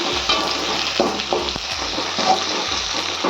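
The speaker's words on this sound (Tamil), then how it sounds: "இப்போ 100 கிராம் பெரிய உள்ளியை போட்டு தாளிப்போம்." Onions fry in hot oil with fennel and curry leaves, giving a continuous close sizzle with repeated scraping stirs of a spoon in the pan.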